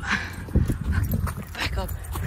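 A dog gives brief yips and whimpers outdoors, heard in short bursts under people talking, with some scuffling and clattering around it.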